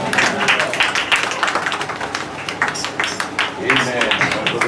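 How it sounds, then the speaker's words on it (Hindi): A church congregation claps in thanks during a revival service, with loud, steady clapping throughout and voices mixed in. "क्या हम तालियां मारकर धन्यवाद देंगे?"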